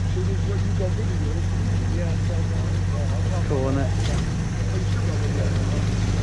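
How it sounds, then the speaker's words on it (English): Engine of an old GMC 100 pickup truck running close by with a steady, heavy low rumble and a slight swell near the end, while people talk over it. "The whole thing shakes when he revs it."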